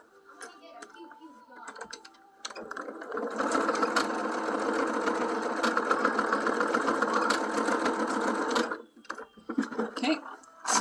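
A sewing machine runs over a seam on bloomers, starting with short bursts and then stitching in a steady, close, continuous whir for several seconds before stopping and restarting briefly.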